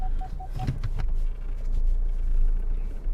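A car drives along a quiet road before parking behind another car: a steady low engine rumble with a brief whine early on, heard alone without talk.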